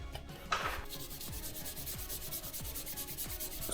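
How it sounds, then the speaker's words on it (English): Sandpaper scuffs paint off car door trim on a Mitsubishi Eclipse, giving a steady, close, rhythmic rasping of back-and-forth strokes with no talking. "Start scuffing it."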